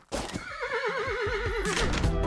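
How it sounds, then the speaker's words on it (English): A horse in a Roblox video game lets out a single clear, wavering whinny lasting about two seconds, close and fairly loud, with a faint hoof clop beneath. "However, you do get to ride horses though."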